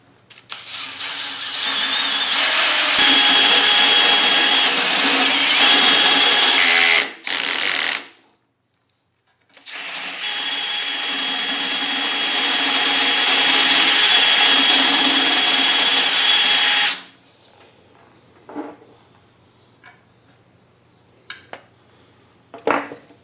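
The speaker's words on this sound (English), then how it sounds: "So let's go ahead and start drilling our hole." A power drill runs a step drill through a metal bracket in two long, loud whining bursts separated by a brief pause, followed by quiet handling clicks and knocks.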